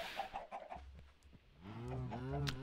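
Cows lowing in Minecraft: a couple of drawn-out, tonal moos rise over the last second, after a few short, clucking animal calls at the start, with no talk.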